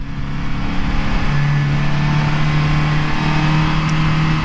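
A 2017 Polaris Slingshot SLR accelerates through a turn with traction control off, its engine holding a steady, loud drone with a rising tone throughout, heard close up over constant wind and road noise.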